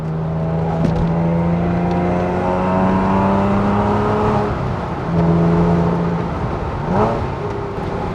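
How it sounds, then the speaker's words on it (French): A Porsche 911 (997) Carrera S flat-six with a Supersprint full exhaust rumbles and revs close by, pitch climbing and dropping through manual gear changes, loud and continuous. "Et le son du Flat 6 qui est légèrement aidé ici par une ligne totale super sprint"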